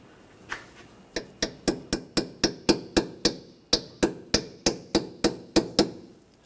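A brake hose retaining clip is tapped into place with hammer-like strikes while replacing a front brake hose on a 2013-2019 Ford Escape: around eighteen sharp, close, loud metallic blows in a steady rhythm, without talk.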